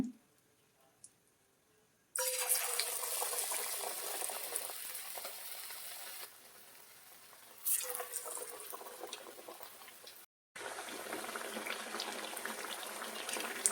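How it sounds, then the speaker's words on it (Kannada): Thinly sliced raw banana bajji fritters dropped one by one into hot oil, sizzling and bubbling steadily at close range in two or three sustained stretches with a brief gap, no talk. "ಈಗ ಇದನ್ನು ಒಂದೊಂದೇ ಎಣ್ಣೆಗೆ ಬಿಟ್ಟು ತೋರಿಸ್ತೀನಿ"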